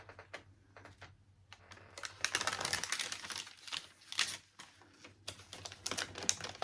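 Crinkly rustling of cardboard card packaging being handled up close, a quiet run of irregular papery crackles and taps with denser bursts in the middle.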